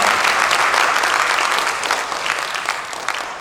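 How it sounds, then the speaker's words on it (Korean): Church congregation applauding at a missionary testimony service, a dense, steady wash of many hands clapping close and loud throughout, easing slightly toward the end. "우리 박수 한번 보내드리겠습니다"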